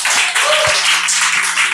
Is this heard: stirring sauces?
no